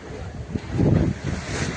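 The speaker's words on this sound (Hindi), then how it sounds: "बहुत तेज हवा चल रही है।" Strong wind gusting across an open hillside village in Uttarakhand, roaring and buffeting the microphone in loud surges that swell and ease.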